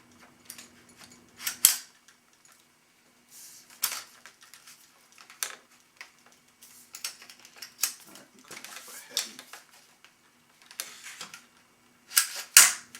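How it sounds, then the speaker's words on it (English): Airsoft gun's upper receiver slid onto the lower by hand: a series of sparse sharp plastic clicks and scrapes, close by, with quiet gaps between them. "slide the upper receiver on. Being gentle with it"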